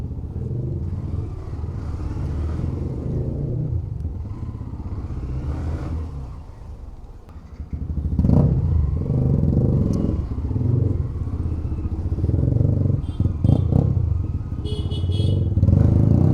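A Yamaha R15 motorcycle rides along a highway, its engine droning steadily and swelling louder midway, with clattering road and wind noise throughout.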